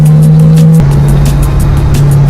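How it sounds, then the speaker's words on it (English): A 2015 C7 Corvette Z06 drives with its roof removed, its engine droning loudly and steadily at close range, with the pitch shifting at one point, amid strong wind and road rush. "C7 2015 C7 Corvette Z06 with the top off."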